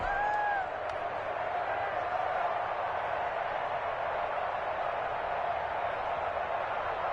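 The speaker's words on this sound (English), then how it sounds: "The crowd getting into it as we come up on a big 3rd down." Steady roar of a stadium crowd in a PS4 video game football broadcast, a dense continuous wash of cheering that holds even and loud throughout, with a brief whistle-like tone near the start.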